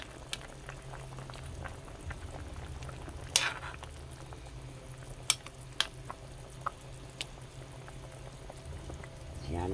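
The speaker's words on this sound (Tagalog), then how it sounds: "hayaan naman natin kumulo at saka tikman natin guys" Sinigang sa miso with carp and okra simmers in a pot, a soft, steady bubbling broth close by, broken by a few sharp clinks and taps of a utensil, with no voices.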